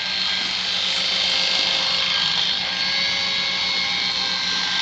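An electric razor shears the fur of an angora rabbit in a steady, close, continuous buzzing drone with a faint rising whine, running alone without any talk.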